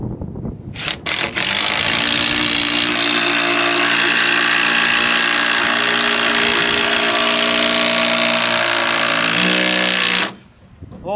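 A power tool driving bolts in a workshop, a loud steady motorised whine that starts abruptly, holds for about ten seconds and then cuts off, close and without talk.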